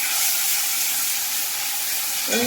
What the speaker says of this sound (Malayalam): ഇപ്പൊ എണ്ണ നല്ലോണം ചൂടായിട്ടുണ്ട് തിളച്ച് വന്നിട്ടുണ്ട് അതിലേക്ക് നമ്മൾ ഈ പേസ്റ്റ് ഇട്ട് കൊടുക്കുകയാണ്